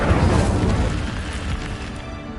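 Incendio fire spell cast in Hogwarts Legacy on PS4, a loud low whooshing burst of flame that rumbles steadily, then thins and fades over a couple of seconds.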